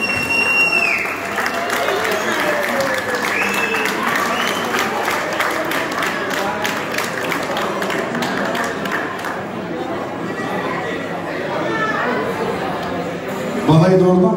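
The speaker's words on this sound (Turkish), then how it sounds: "Alkışlar okulun arkadaşı için olsun." Guests at a German-Turkish wedding ceremony break into applause, a steady wash of clapping mixed with crowd chatter and voices, with a louder rustle near the end.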